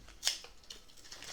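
Scissors snip once at the packaging of a self-published Lenormand oracle card deck. It is a single sharp, close, fairly quiet cut, followed by faint handling rustles in a quiet room.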